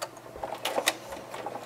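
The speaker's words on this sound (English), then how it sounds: "we're going to sew the other side with 1/4 inch" A sewing machine stitches a quarter-inch seam on a fabric pencil case for an 18-inch doll, giving a short, quiet run of quick mechanical ticks and whirs with no talking.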